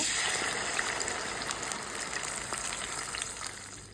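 A blended paste of yogurt, nuts and cinnamon going into a hot pan for chicken korma, giving a steady, fairly loud hiss and sizzle that runs continuously with no talking.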